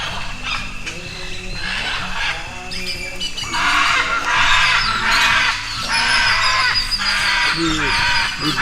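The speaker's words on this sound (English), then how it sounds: "You can hear that. It's the macaws." Macaws call repeatedly in the jungle around the Maya ruins of Copan, Honduras, harsh squawks coming in bursts that grow louder and denser midway, mixed with people talking nearby.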